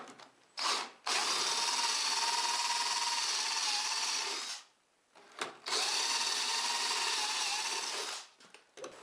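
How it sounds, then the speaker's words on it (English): A power drill bores screw holes through the wooden top of a radial arm saw in two long, steady, close runs of whining drilling, each preceded by a short burst, with a pause between and no talk. "I can now use it as a guide to drill the actual screw holes."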